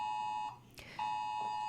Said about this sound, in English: I was woken up 4 times by those amber alerts on my phone